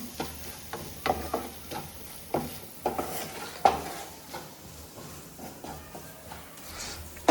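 Fish sizzles in a pan of garlic masala, a steady soft frying hiss broken by repeated stirring scrapes and light clinks of a utensil against the pan.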